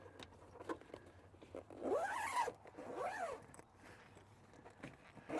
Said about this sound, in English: you zip it up just like the rest